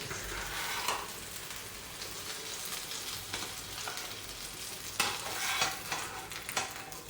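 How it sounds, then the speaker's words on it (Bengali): Eggs fried with potato sizzle steadily in a hot pan, a constant frying hiss with occasional scraping as they are stirred. "আমাদের ডিম ভাজা হয়ে গেছে"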